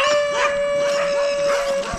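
Several dogs howling and barking on a jungle trip through Manaloda Forest, a loud sustained howl wavering over overlapping yelps and barks close by.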